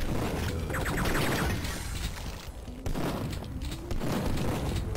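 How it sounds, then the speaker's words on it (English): Pipe bombs in Duke Nukem 3D go off as a dense, loud barrage of blasts and shattering crashes, one after another for several seconds with barely a pause. "we're definitely gonna use some pipe bombs here"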